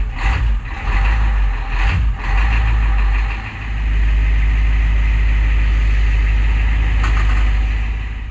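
A 7.3 IDI diesel truck engine, one that starts hard in winter, turns over and settles into a loud, steady, low rumble that runs close by with a few uneven bursts at the start.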